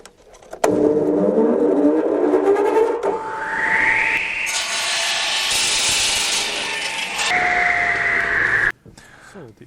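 A power saw cuts a brick to size for a small building: the motor whines up in pitch, then a loud gritty cutting roar holds for a few seconds before easing back and stopping, all close by.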